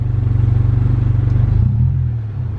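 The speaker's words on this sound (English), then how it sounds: "Car's still running though." A car engine running rough and unhappy on E85 fuel in a vehicle not made for it, a loud pulsing low chug with uneven rhythm that sags and shifts near the end.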